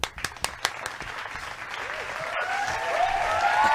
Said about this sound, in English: Yay, everybody hand clap.